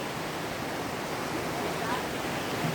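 Steady broadband rush of flowing water, a continuous roar of a large mountain river close by, with no clear voices.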